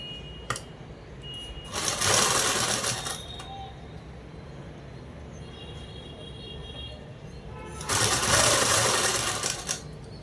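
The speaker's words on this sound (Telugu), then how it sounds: "ఇలా క్లాత్ అనేది పట్టేసుకొని కుట్టు అనేది వేసుకుంటూ రావాలి." A sewing machine stitching cloth for a boat neck dress, running in two loud whirring bursts of about two seconds each over a steady quieter hum.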